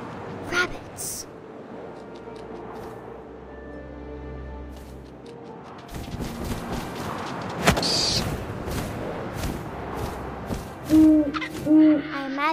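An owl hoots in the video game What Remains of Edith Finch, soft calls rising over wind-like ambience and thuds while a narrator talks throughout.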